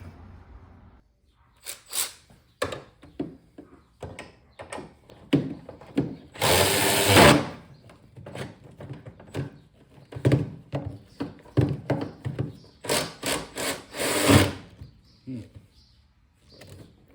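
A power tool backs out the bolts beneath the seats in a Jeep TJ during a Corbeau sport seat install: two loud whirring bursts among repeated clanks and knocks, close by, without talk.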